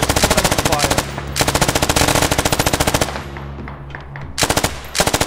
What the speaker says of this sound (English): Keep up the suppressing fire